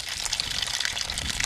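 Coolant and water drain from a 2005 Chevrolet SSR during a cooling system flush, a steady close hiss of gushing liquid pouring continuously without pause.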